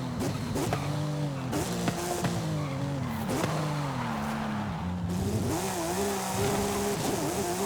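A Porsche race car in Forza Horizon skids through corners on a custom track, tires squealing in long wavering whines over a revving engine, loud and continuous.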